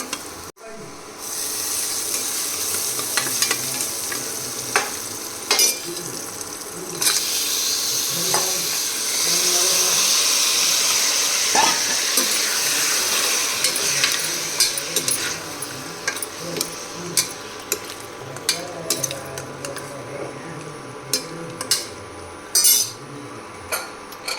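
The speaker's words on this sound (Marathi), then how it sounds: "थोडीशी लाल तिखट हळद पावडर थोडी सर्व काही मिक्स करून घेते" Onions with cumin seeds, red chili powder and turmeric frying and sizzling in a pan at home, stirred with a metal spoon: a steady close hiss is broken by repeated clinks and scrapes of the utensil against the pot.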